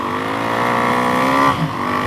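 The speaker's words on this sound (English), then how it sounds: "It's a pretty loud exhaust, but with it turned down for the rider, it's a lot more quiet of a ride" A Suzuki DRZ E-model dirt bike with a stroker big-bore engine, wide-ratio gears and a Barker's exhaust revs loudly and close up under riding, a steady throaty drone that briefly drops during a gear change before picking up again.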